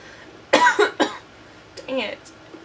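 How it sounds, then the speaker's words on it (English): Commander Shepard coughing while poisoned in the video game Mass Effect 1: a short burst of harsh, close coughs, then a brief pause and a rougher throat-clearing cough. "Why am I coughing?"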